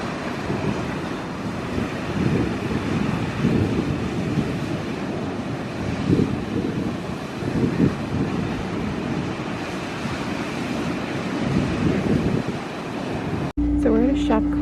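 Rough ocean surf and gusting wind roar continuously at the Arctic shore of Utqiagvik, Alaska, a dense rumbling wash buffeting the microphone, ending abruptly.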